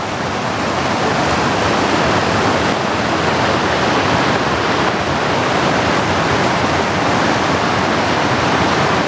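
Provo River Falls in Utah's Uinta Mountains pours in a dense, steady roar of rushing water heard from right beside the falls, loud and unbroken throughout.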